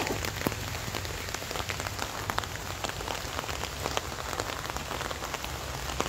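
Rain pours steadily during a trek on the MacRitchie trail in Singapore, a dense continuous patter of drops hitting leaves and surfaces nearby, with no talking.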